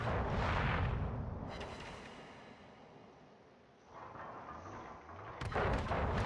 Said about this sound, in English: Baddutch opts to go ahead and shoot.